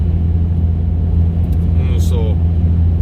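Car cruising down the road with a steady low engine rumble and road noise, while someone talks over it inside the cabin.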